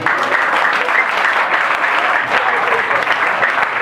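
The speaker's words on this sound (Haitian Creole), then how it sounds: "Applaudissements." An audience applauding, with dense, continuous clapping from many hands that stays loud and even from start to finish.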